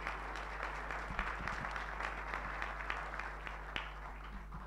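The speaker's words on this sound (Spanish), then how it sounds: "les pido un gran aplauso por nuestro padre Pablo Buddy Kleden." A large round of applause from an audience at an education talk, a steady, fairly quiet wash of clapping heard from a distance over a low hum.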